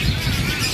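Caged songbird at a large bird market, its chirps brief and close amid dense market background noise.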